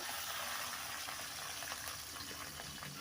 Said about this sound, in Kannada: ನೋಡ್ಬೋದು ಇಲ್ಲಿ ಚೆನ್ನಾಗಿ ಫ್ರೈ ಆಗ್ತಾ ಇದೆ ಮೆಣಸಿನ್ಕಾಯಿ ಕೂಡ